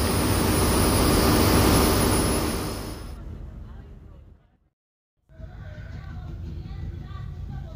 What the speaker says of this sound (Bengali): দেখতেই পাচ্ছেন শিপের প্রপেলার আর পানির কি গর্জন।